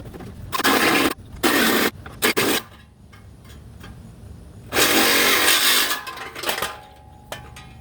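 A power saw cuts open the mold of a 125-pound lifting stone in several loud, close bursts of whining, grinding noise, with quieter gaps between the cuts.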